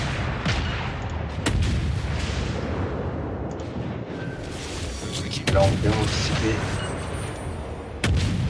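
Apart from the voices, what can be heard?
warship naval guns firing in World of Warships video game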